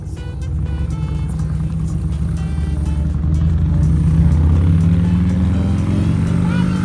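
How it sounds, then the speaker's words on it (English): A motorcycle rides close behind a moving vehicle while digging equipment works after earthquake damage, giving a steady loud engine drone that swells toward the end, with no talk over it. "we got a motorcycle behind us now"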